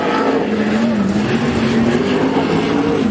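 ASCS sprint cars racing in a heat race at Willamette Speedway, a loud continuous engine roar with a sustained high drone that shifts slightly in pitch as the pack runs.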